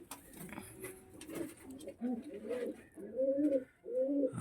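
Karna pigeons coo in a coop, a soft, steady murmur of overlapping low coos that swells and fades, with faint fluttering behind them and no talk.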